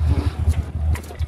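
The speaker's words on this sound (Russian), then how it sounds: "Вот тут уже люди двигатель завели, прогревают машины." Porsche cars are started and warming up at a Porsche Club USA motor racing event, giving a low, steady idling rumble under gusty wind noise.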